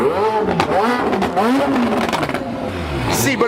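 A custom pink car with an extreme exhaust revs hard nearby, its engine pitch sweeping up and down in repeated loud blips while people talk over it.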